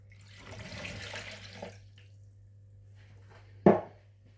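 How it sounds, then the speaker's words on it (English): Cold tap water runs into a measuring jug for about two seconds, a steady hiss that stops, followed by a single sharp knock or clunk. "Measure out 175 millilitres of cold water."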